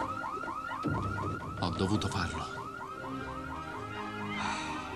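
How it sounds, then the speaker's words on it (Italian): A car alarm sounds in a thriller scene, its looping electronic wail repeating steadily and loudly throughout, with voices and some commotion over it. "Avanti, stacca quell'allarme."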